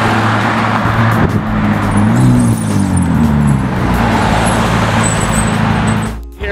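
A straight-piped 2006 Ford GT approaches with a loud, deep, rumbling exhaust drone that stays heavy and close, wavering in pitch before dropping off near the end.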